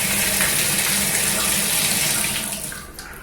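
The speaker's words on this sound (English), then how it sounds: "the plumbers come in and they retrofitted the shower and tub" Water runs from newly retrofitted shower and tub valves, a steady close gushing stream that fades toward the end as the flow is shut off.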